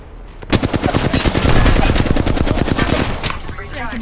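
Rapid automatic gunfire from a first-person shooter game, a dense burst of evenly spaced shots lasting about three seconds, loud and close, with game sound effects trailing off at the end.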